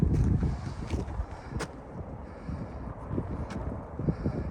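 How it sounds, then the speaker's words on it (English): Wind buffets the microphone in low, uneven gusts throughout on a hilltop near Clee Hill, Shropshire, with a few faint rustles and bumps underneath. "It's a bit windy."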